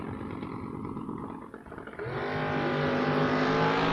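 A Chevrolet S10 and a 2004 Mustang launch down a drag strip with a loud, rising engine roar that builds and holds close by.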